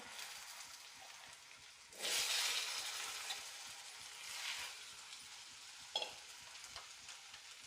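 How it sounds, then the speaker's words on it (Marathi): Potatoes frying in a pan with turmeric and chili powder while being stirred, a steady soft sizzle broken by a louder scraping burst early on and a few brief clinks of the spoon against the pan. "आता बटाटा हे आपण छान परतून घ्यायचं आहे"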